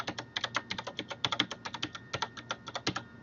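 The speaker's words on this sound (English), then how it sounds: "So I'm going to start typing that." Rapid, uneven keystrokes on a computer keyboard while entering a custom variable in Zeiss ORION NanoFab automation software; close and crisp, about twenty clicks in quick bursts with no talking.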